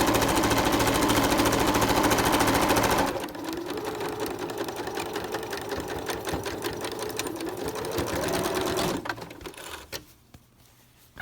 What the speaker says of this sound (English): we're gonna sew all the way to this side and back stitch at the end